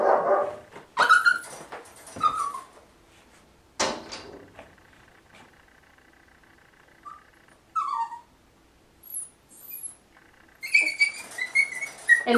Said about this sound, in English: And whining is normal for puppies.